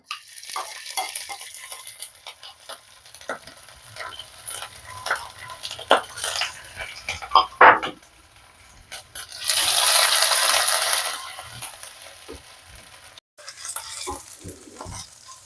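Crushed ginger and green chili fry with cumin on a low flame for aloo paratha, with repeated spatula scrapes and taps against the pan and a loud hissing sizzle burst midway.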